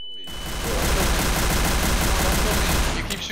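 Dense, continuous gunfire rattles loudly and without pause in the Garry's Mod DarkRP video game, a sustained burst of rapid shots that fills the whole moment before cutting off abruptly.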